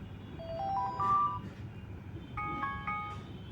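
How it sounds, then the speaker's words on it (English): A melodic itel phone's default alarm tone plays rising electronic notes, then repeats a short chiming pattern, clear and moderately loud over faint background noise. "if you click here default alarm sound"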